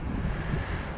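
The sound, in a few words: wind blowing into the microphone outdoors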